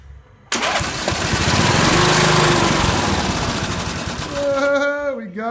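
A push-button-start lawn tractor engine fires up abruptly and runs loud and steady close by for several seconds, then stops; a voice begins talking as it dies down.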